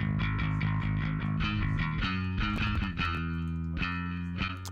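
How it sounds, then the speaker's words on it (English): Electric bass guitar with a room reverb applied so it sounds like a cabinet in a room, playing a driving, rhythmic riff of repeated plucked notes, loud and close with some distortion. "if I turn that room reverb on and off, you'll hear that sounds like a cabinet in a room"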